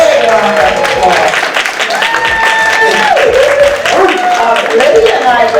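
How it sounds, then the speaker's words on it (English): Sustained audience applause at a senior center town hall, dense clapping throughout with crowd noise and a few voices talking over it. "A big round of applause."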